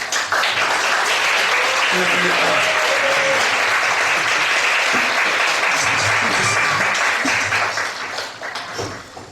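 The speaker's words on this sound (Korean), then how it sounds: "박수 한번 치겠습니다." A church congregation claps loudly and steadily during a Sunday festival worship service welcoming two visiting deaconesses from Daejeon, with the applause sustained and dense before thinning toward the end; faint voices murmur beneath.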